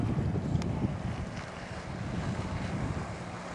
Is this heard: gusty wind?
yes